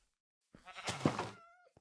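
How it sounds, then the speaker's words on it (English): A single sheep bleat from a penned sheep in Minecraft, a clear wavering cry lasting about a second, followed by a tiny click, otherwise silent. "There's actually 2 sheep in like a little pen here."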